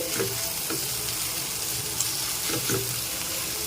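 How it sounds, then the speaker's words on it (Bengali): Chopped green chilli, grated ginger, garlic and tomato pieces frying in a pan, a steady close sizzle with a few soft stirring scrapes, no voices. "দিয়ে দিচ্ছি কাঁচা লঙ্কা কুচি গ্রেট করা আদা রসুন আর টমেটোর টুকরো একসাথে ভালো করে মিশিয়ে আরও কিছুক্ষণ ভেজে নিচ্ছি"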